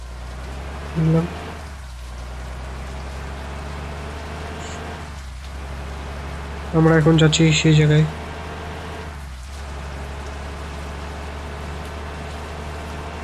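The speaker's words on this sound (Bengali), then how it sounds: "পুরো বৃষ্টি ভাই পড়তেছে" Steady rain hisses down across a bus driving video game set on scenic Assam routes, a continuous even wash of drops under a voice.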